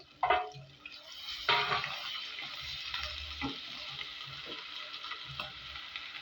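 Whole garam masala spices dropped into hot oil while potatoes have just been fried, giving a steady close sizzle with a few sharper crackling bursts and faint stirring clinks, no talking.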